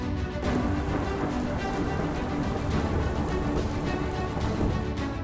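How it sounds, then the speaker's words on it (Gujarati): Rain falling across Saurashtra and South Gujarat, a steady, loud, broadband wash of drops that stays even from start to finish, with no talking. "સૌરાષ્ટ્ર દક્ષિણ ગુજરાતમાં વરસાદ."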